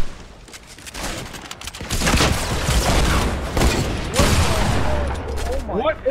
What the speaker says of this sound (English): What am I getting shot by?